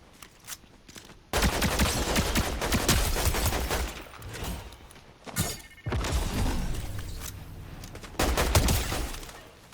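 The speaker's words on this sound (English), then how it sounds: "I'm getting shot at again." Bursts of rapid gunfire in a Fortnite match, loud and close, coming in several volleys with brief pauses between them and sharp shattering impacts mixed in.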